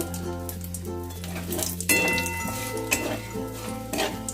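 Bay leaf, dried red chilli, cinnamon, cardamom and cloves fry in hot oil in a pan with a steady close sizzle, broken by a few metallic clinks and stirring scrapes from a utensil.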